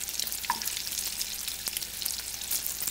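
Grape tomatoes frying in oil and butter give a steady, close crackling sizzle with small pops scattered throughout, and nobody talks over it.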